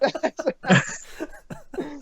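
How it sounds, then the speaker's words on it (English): A single short cough from a man during a casual podcast conversation, close to the microphone, followed by a brief burst of talking and chuckling. "I really didn't mean for that cough to be timed that way"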